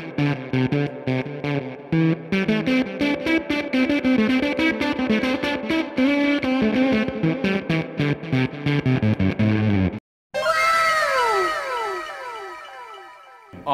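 Electric guitar played through a Zipper Fuzz pedal set at the point of breakup, with busy distorted, sputtering chords and notes, then a brief silence and a final ringing, swept note that decays with a chorus-like wobble.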